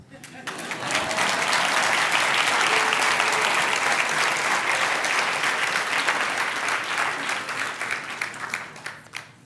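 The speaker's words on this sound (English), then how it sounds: "You can probably clap." An audience bursts into applause after a talk, swelling quickly into sustained dense clapping that holds steady for several seconds before tapering off with a few scattered claps.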